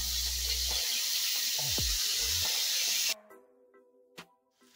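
A loud, broad hiss erupts as turmeric water hits hot oil on a low gas flame, sputtering steadily before cutting off abruptly, leaving quiet kitchen clatter and a faint clink.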